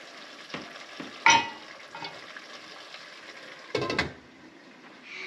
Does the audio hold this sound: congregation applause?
no